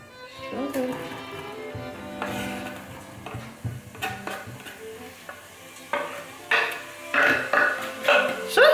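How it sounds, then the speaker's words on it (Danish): Chopped onions go into a pot of heated oil and start to sizzle, with stirring and scraping in the pan and louder clatter toward the end. The cooking sounds close by and continues without a break. "Og så putter vi vores løg ned i gryde."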